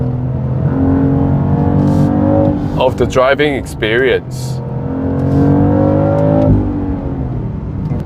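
Synthesized engine sound of a 2025 BMW X3 M50 xDrive, a near, loud droning hum whose pitch climbs steadily under acceleration, dips, then rises again, with someone talking over the middle of it.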